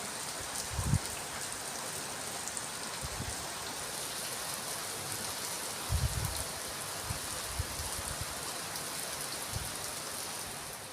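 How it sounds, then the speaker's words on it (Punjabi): Heavy rain pours down in a dense, continuous hiss, with occasional louder thuds and splashes from drops striking nearby surfaces. "ਦੇਖੋ ਜੀ ਬਾਰਿਸ਼ ਹੋ ਗਈ ਸ਼ੁਰੂ"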